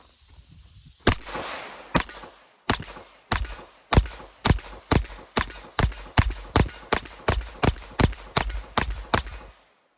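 A Sig P322 pistol fires CCI Mini Mag high-power rounds at a range, about seventeen sharp, loud shots in a steady, fairly quick rhythm after a short lead-in, with no talk.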